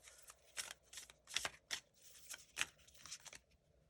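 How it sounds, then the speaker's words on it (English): Playing cards shuffled and drawn for a pick-a-card tarot-style reading, a run of soft, quick riffling and sliding bursts repeating through the clip, quiet and close with no talking. "I am going to be going ahead and drawing cards in this one section"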